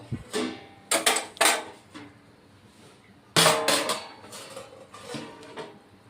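A metal lid clanks down onto a cooking pot on the stove while a Bengali drumstick curry with mustard paste simmers, with a few sharp, close knocks and rattles separated by short pauses.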